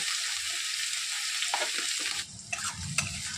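Vegetables frying in a pan for chilli chicken, a loud continuous sizzle close by, with a few stirring scrapes toward the end as the hiss briefly dips.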